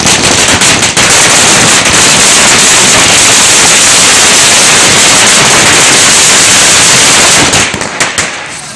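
Loud, dense crackling of firecrackers bursting rapidly and continuously at a celebration, a relentless barrage that thins out only at the very end.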